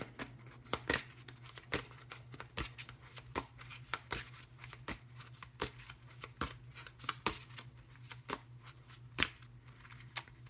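Tarot cards being shuffled in quick, crisp riffles and bursts, close and fairly quiet, with a low steady hum underneath.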